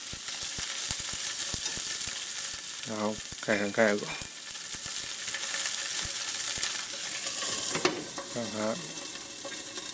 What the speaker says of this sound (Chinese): 上火，加少一点底油，烧热它，差不多冒烟的温度，然后把鱼放进去